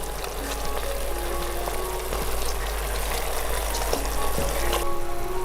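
Honey char siu pork cooking down its sauce inside a covered rice cooker makes a steady, even sizzling hiss over a low hum.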